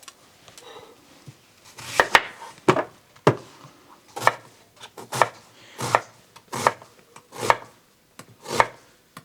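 An onion being diced with a knife on a board: about a dozen crisp, close knocks in a fairly regular rhythm, each a sharp thud against the wood, building from a few light taps into steady chopping.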